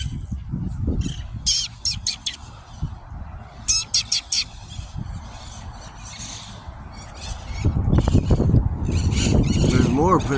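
Parrots on a powerline let out clusters of harsh squawks and chirps in short bursts, followed by a stretch of louder outdoor noise and voices.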